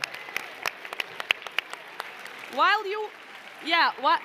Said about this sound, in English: let us give us a round of applause